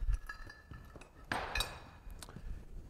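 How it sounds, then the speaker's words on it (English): A gear puller works a fan free from a manual pump shaft, giving a few sharp metallic knocks and one bright clanking pop near the middle, close and fairly quiet, with no speech. "Simply use your puller. It pops the fan off."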